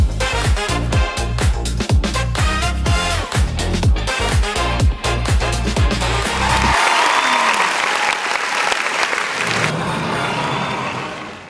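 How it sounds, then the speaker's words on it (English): Rhythmic, thumping music gives way to broad, sustained audience applause at the IFA 2025 tech show as the CEO of Volkswagen USA is welcomed, the clapping continuing steadily to the end. "please welcome with me, with an applause, Kjell Gruner, the CEO of Volkswagen USA."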